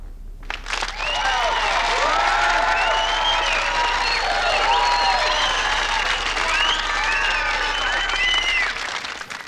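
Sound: audience applause for next performer

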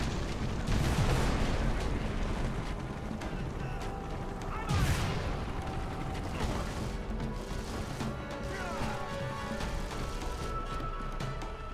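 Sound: gunfire in the video game Avatar: The Game

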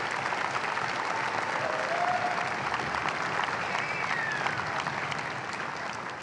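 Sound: applause

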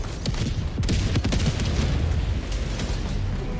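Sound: mortar shells exploding nearby in the video game Helldivers 2

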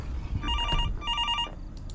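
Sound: telephone ringing in video game Fears to Fathom

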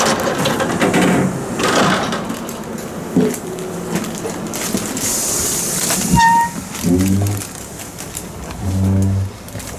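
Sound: Italian ICN night train

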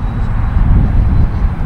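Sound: E-flite Viper 90mm EDF RC jet flying

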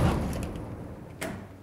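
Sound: hotel door closing with swing bar lock

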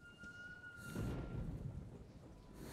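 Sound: thunder and lightning in the video game Metro: Last Light Redux

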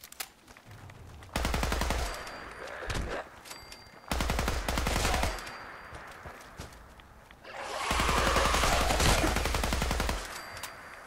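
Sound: gunfire with explosive rounds in Fallout 4 video game

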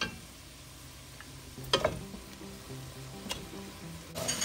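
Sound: frying mutton with onions in a pot

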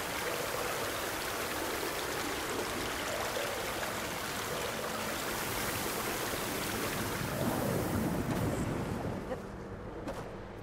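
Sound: rushing water in Horizon Forbidden West video game

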